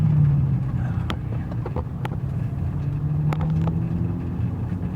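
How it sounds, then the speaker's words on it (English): A modified 2014 Volkswagen GTI with a DSG gearbox cruising along, heard from inside the cabin as a steady low engine and road drone with a few light clicks and knocks. "This thing is a pretty smooth driving car though."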